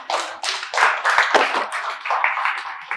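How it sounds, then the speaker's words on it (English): Hand clapping for a performer at a lecture, a short burst of several quick claps in an uneven rhythm, close and fairly loud, with no talking. "He needs more applause."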